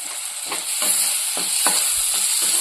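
A spoon scrapes and stirs gongura meal maker curry in a pan, several rhythmic strokes over a constant bright sizzle of frying, close and clear with no talk.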